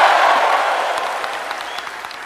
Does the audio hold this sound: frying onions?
no